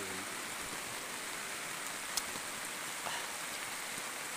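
Steady rain falls in a forest, a soft continuous hiss of drops on leaves and surfaces, faint and even, with a couple of sharper individual drips.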